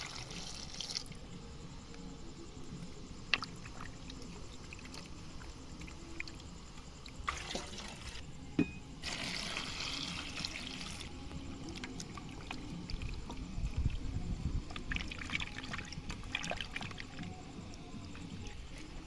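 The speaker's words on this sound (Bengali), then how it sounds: "বড় পাত্রের মধ্যে আমি জল দিয়ে ধুয়ে নিচ্ছি টমেটোগুলো" Tomatoes washed by hand in water in a large bowl, giving faint sloshing, splashing and dripping in a quiet room, with occasional brief louder splashes.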